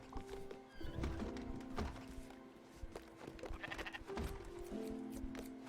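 Sheep bleat in the video game Spiritfarer, several calls with hoof-like clip-clop and small knocks over layered game music and ambience.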